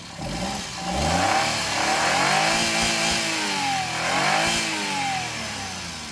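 The engine of a 2010 Maruti Suzuki Alto LXI car revs up repeatedly, rising and falling in pitch, loud and close, with no talking.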